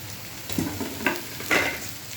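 Egg and paneer frying in a pan with salt and sugar just added, giving a low steady sizzle with a few brief louder bursts of stirring.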